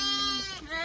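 On a Maharashtra village farm, a sheep or lamb gives one close, continuous bleat under a second long, wavering in pitch midway.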